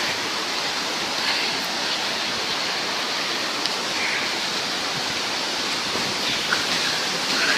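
Steady, full roar of a waterfall in the Carpathian mountains, a dense unbroken rush of water heard up close without any letup.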